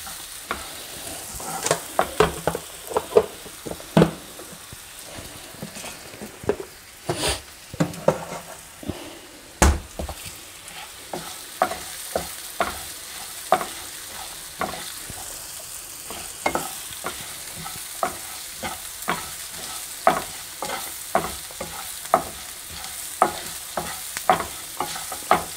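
Onions frying in a pan for masala dosa filling, a steady background sizzle broken by frequent sharp scraping strokes of a spatula stirring, rhythmic and close, with no talking.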